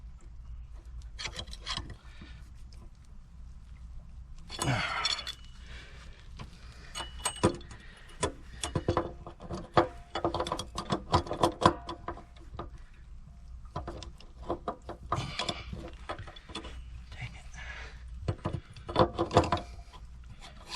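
Ratchet snugging down a threaded element on an electric water heater, giving short bursts of rapid clicking and rubbing in several clusters, close and moderately loud with quieter gaps between.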